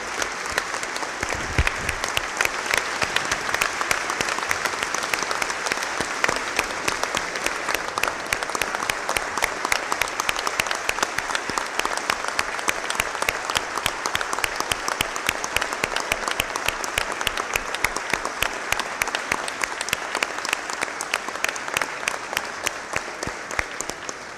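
Sustained, dense applause from a crowd in the Uruguayan parliament during a tribute to accountant Enrique Iglesias on his 90th birthday, loud and even for the whole stretch.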